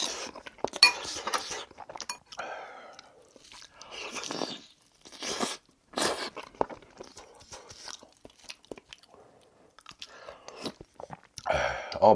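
Someone eats Korean stew, with repeated close crunchy bites and chewing alongside the clink of a spoon against a bowl, in bursts separated by short pauses.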